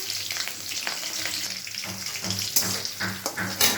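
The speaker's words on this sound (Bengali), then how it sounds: "মাথাগুলো ভালো করে ভেজে নেব" Hilsa fish heads fry in hot oil with nigella seeds and green chillies, giving a steady close sizzle with bursts of sputtering and occasional utensil clinks.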